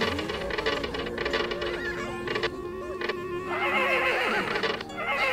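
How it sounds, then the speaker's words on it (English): A mechanical horse in the video game Haunt the House: Terrortown lets out loud, drawn-out neighing whinnies over game music and clip-clop hoofbeats, with no talking. "What, no one ever heard of a mechanical horse?"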